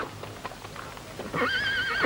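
Horses on soft sand for a desert battle scene: rhythmic hoof clip-clops on sand build up, then a loud, close neigh rings out and holds for about half a second.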